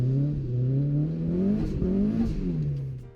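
The engine of a Mk1 Ford Escort RS2000 revs up and down in smooth surges, its throaty note rising and falling close by with no talk.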